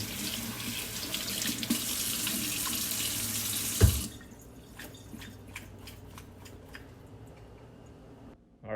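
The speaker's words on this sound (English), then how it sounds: "We're just going to rinse it off." Strong running water pours from a sink tap for about four seconds while a boiled deer skull is rinsed, then the flow stops and a few scattered drips and light clinks follow in the quiet.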